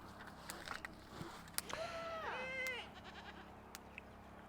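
Goats give a single wavering bleat at middle distance amid faint scattered clicks and knocks, fairly quiet, with no talking.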